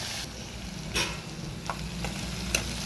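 Brinjal pieces fry in a pan for a Telugu-style curry: a steady, fairly quiet sizzle runs throughout, with a few brief scraping stirs and clinks rising above it.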